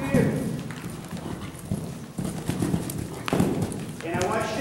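Horse cantering in an arena during a riding clinic, hooves striking ground in a steady three-beat rhythm, with a person talking over it and some background noise.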